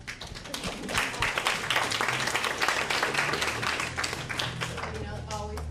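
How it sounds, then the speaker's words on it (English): Audience applause at a community meeting on the DTLA 2040 plan, scattered and fairly close hand claps that build and hold for several seconds, with voices mixed in. "let's give them applause."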